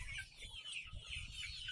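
A flock of chickens clucking and softly calling together while being fed sliced cucumber, a dense busy chatter of many birds close by with a low rumbling background and no talking.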